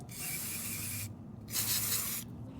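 Gumout Mass Air Flow cleaner sprays from an aerosol can onto a car's mass air flow sensor in two steady hissing bursts, the first about a second long, then a short pause before a stronger second burst.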